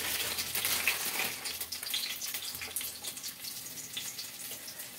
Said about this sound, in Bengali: তো এই 6 পিস আমি ভেজে নিচ্ছি।